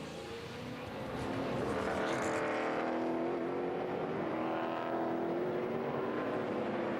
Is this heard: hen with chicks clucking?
no